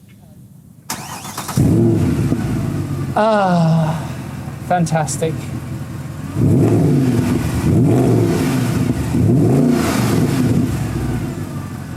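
A Mercedes C63 AMG wagon engine fires up with a loud bark, then revs in repeated rising and falling blips before settling, heard close from outside the car, with a brief spoken exclamation over it.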